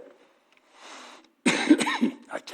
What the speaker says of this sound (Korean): 제가 알러지가 좀 심해서 기침이 자꾸 나오는데